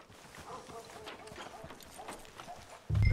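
Horse hooves clip-clop in a steady walking rhythm in Red Dead Redemption 2, close and moderately loud, ending in a sudden low thump.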